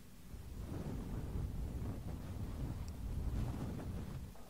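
A person imitates wind noise into a new microphone, producing a soft, continuous, breathy rush with slow swells in loudness and no speech.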